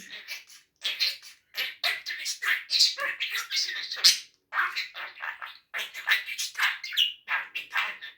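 Small birds chirp rapidly and persistently, high-pitched and close by, in dense bursts with a couple of brief pauses.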